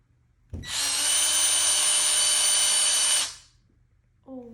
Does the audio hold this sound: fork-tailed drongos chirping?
no